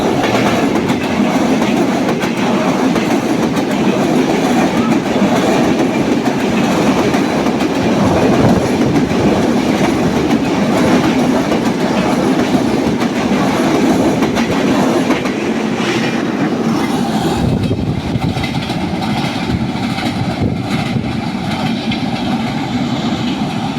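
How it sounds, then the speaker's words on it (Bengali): Kapotaksha Express train from Khulna bound for Rajshahi passing close by in the early morning, a loud continuous rumble with rhythmic clickety-clack of wheels on rails lasting the whole stretch. "তা এখন কপোতাক্ষ ট্রেনটি যাচ্ছে।"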